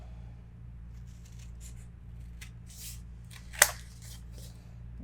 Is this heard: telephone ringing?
no